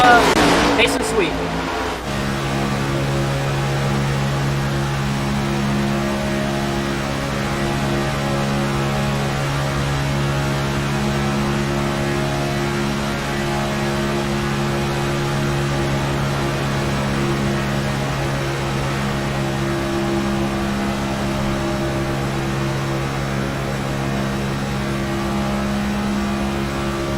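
Onboard engine of a NASCAR Next Gen stock car racing at Daytona in a sim racing game: a loud, close, steady drone holding a near-constant pitch throughout, with no shifts or pauses.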